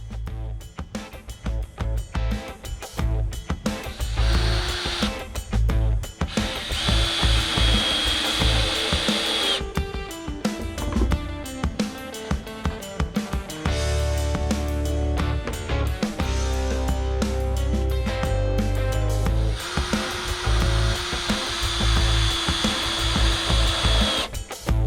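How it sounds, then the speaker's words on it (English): Power drill driving self-drilling decking screws into wood at a cabin, while building a sturdy frame for a boat antenna mast mount; the motor whines in repeated loud bursts with brief pauses between screws, close and without talk. "Both of these are self-drilling."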